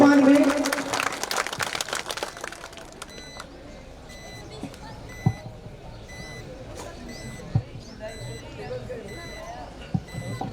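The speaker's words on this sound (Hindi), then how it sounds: "जोरदार तालियां इनके स्वागत में, सम्मान में।" Rally crowd in Sanawada applauding to welcome Lok Sabha candidate Kailash Choudhary: a loud burst at the start, then a steady wash of clapping with a few sharp peaks and faint beeping tones on top.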